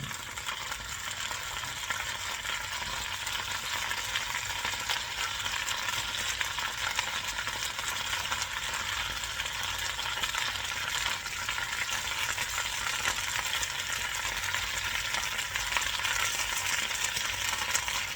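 Potatoes and turnips fry in butter and olive oil, a dense, even crackling sizzle that carries on unbroken for a long stretch, close and moderately loud, with no voices.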